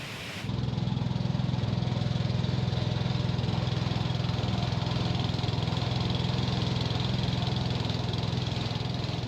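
A ferry boat's engine runs at a steady drone on the Mekong river near a ferry and fishing port, starting abruptly and then holding a constant close, rumbling chug throughout.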